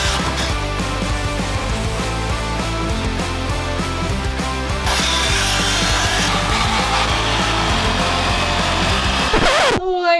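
Wood being sawn with a power saw during a boat interior renovation, a loud steady rasping grind that runs for about ten seconds with a brief shift in tone midway, no voices.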